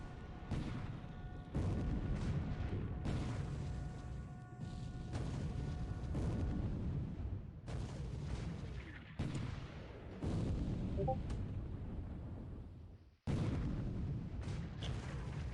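Naval gunfire strikes the cruiser Sendai in the War in the Pacific strategy game, repeated heavy booms and artillery blasts in irregular succession, loud and close, with sudden cutoffs and a brief silence near the end.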